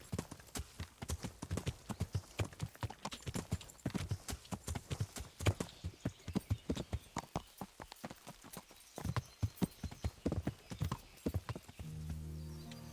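Horse hooves clip-clop steadily in Kingdom Come: Deliverance as a horse walks along a road toward a town, a continuous rhythmic patter of close, moderately loud steps, with a short tonal passage near the end.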